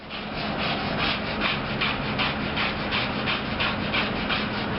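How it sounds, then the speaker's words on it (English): A wire brush is scrubbed hard over a concrete spot at a bank drive-thru, giving a loud, steady, rasping rub with rhythmic back-and-forth strokes throughout. "a wire brush and 2 minutes worth of rubbing the brush"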